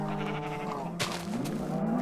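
A sheep in the game Minecraft bleats once, a wavering nasal call that rises toward the end, over steady background game sound.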